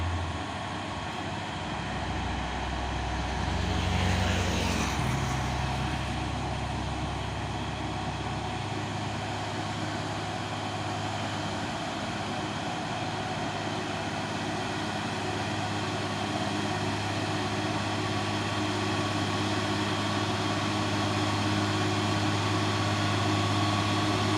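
Open-bed truck creeping along slowly, a steady low engine drone with a passing whoosh early on, then an even rumble that holds for the rest of the stretch.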